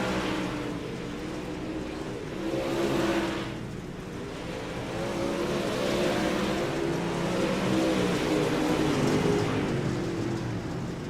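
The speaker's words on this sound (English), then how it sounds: "It's going to be 5 laps to go as Sapansky crosses the line." Dirt track race cars lap a track, engines droning and swelling as they pass, a continuous loud mechanical roar that rises and falls with no voices.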